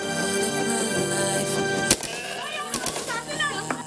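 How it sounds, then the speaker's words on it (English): Two sharp, cracking bangs go off a moment apart over a steady bed of music and background voices. "We just heard gunshots, north of the advanced position."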